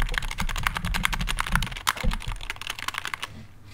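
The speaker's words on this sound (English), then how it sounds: "let me put my keyboard up" A computer keyboard is typed on fast and close to the mic, in a dense, continuous clatter of crisp key clicks that stops abruptly near the end.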